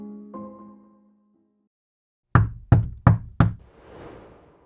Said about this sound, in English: he would hear knocking on one of the walls